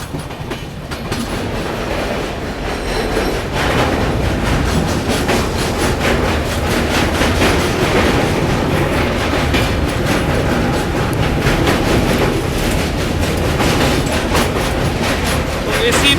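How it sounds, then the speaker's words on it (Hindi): Sealdah Bikaner Duronto Express on a non-stop run crossing a bridge: a loud, steady rumble with dense rhythmic clatter of wheels over rail joints filling the whole stretch, with faint voices beneath. "बीच में अपनी ट्रेन निकलती है"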